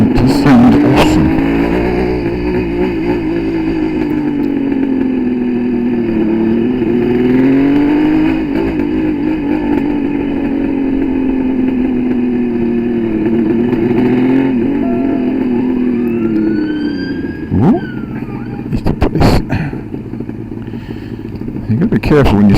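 A Kawasaki 750 H2 two-stroke triple motorcycle being ridden on the road, its engine droning loud and close throughout with rising and falling revs, while a rider's voice talks over it.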